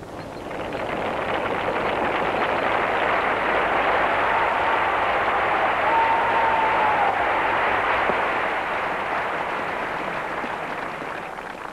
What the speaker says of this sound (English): the crowd is cheering Bradman for his 100.